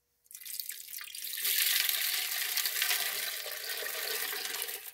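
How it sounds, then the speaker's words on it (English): Tap water pouring into a vibratory rock tumbler barrel loaded with garnet and grit, starting abruptly after a short silence and building into a steady, bright rushing splash that continues evenly to the end. "We'll fill this up with water and let it run."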